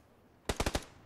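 A short burst of about four rapid automatic gunshots in PUBG, sharp and fairly loud against a quiet background, with no talking.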